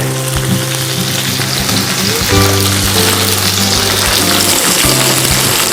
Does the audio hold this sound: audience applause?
no